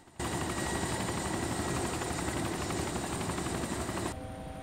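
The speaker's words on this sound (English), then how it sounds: "There's another chopper." Helicopter flying in the DayZ survival game, a loud continuous rotor thrum and engine whine holding steady for several seconds before dropping off abruptly near the end.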